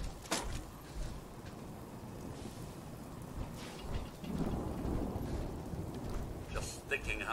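Heavy, steady rain pours down with low rumbling thunder swelling in the middle, a constant wet hiss under occasional voices nearby.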